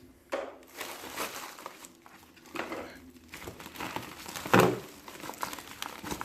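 Plastic corner packaging is pulled away from a boxed 1:18 Infiniti Q70L model car, giving irregular close crinkling and crackling rustles with a louder sharp crunch near the end, no talking.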